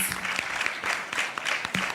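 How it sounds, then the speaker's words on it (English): Audience applause at a youth TVET competition forum: a short burst of crowd clapping, dense and fairly loud, with some individual claps standing out. "A round of applause for them"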